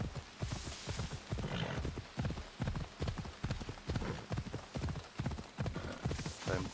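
Rhythmic clip-clop of a horse's hooves trotting in the video game Assassin's Creed Odyssey, a steady galloping beat of close, crisp hoof strikes continuing throughout with no talking.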